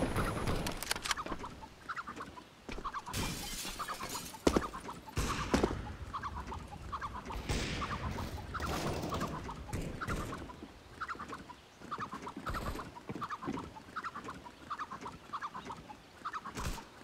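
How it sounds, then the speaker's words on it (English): Chicken clucking in a video game, repeated short clucks in a steady run with rooster-like calls mixed among clicks and game noise, fairly loud and close throughout. "One chicken."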